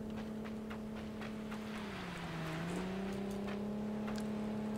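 A car engine in the game Ring of Elysium hums steadily at a low pitch, dipping briefly and then recovering as it drives nearby.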